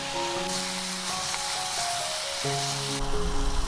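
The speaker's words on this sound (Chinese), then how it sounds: "然后把草菇跟胡萝卜放进来， 这样子慢慢炒，把草菇跟这个胡萝卜呢炒出香味来" Straw mushrooms and carrots stir-frying in a little oil with garlic slices, giving a steady, even sizzle and hiss under background music, with no voices.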